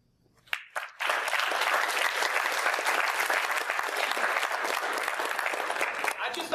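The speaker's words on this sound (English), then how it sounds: "no need for applause" After a few isolated claps, an audience at a debate breaks into loud, full applause that starts suddenly and stays thick and steady to the end.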